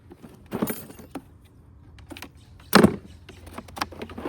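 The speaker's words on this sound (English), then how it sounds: "Okay, now for the tubing, I'm just going to cut a piece of this." A short piece of drip irrigation tubing is cut in a garden bed, giving a couple of quick, close snips and crunches with small handling clicks between them and no talk.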